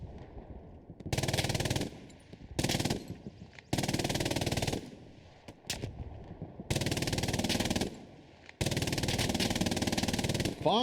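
Rapid automatic gunfire in the World War II shooter Hell Let Loose during a night match, fired from the top of a silo in loud sustained bursts of about a second or more, separated by short pauses.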